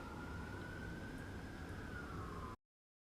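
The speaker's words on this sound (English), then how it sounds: "there's sirens just about every second of the day" A siren wails steadily through downtown Los Angeles, a single sustained tone sliding slowly downward as the emergency vehicle passes, loud over a dense rumble of city traffic before cutting off abruptly.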